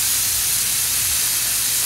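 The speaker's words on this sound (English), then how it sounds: "We're gonna put that in the pot and let that sizzle" Minced garlic sizzles loudly in a pot, a dense, steady hiss filling the sound close up without any talking.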